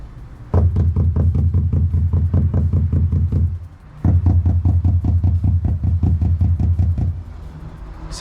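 Rapid knocking on a 2018 medium-wheelbase VW Crafter van panel fitted with sound deadening, two long bursts of dense, deep, dull thuds with a brief pause between, loud and close.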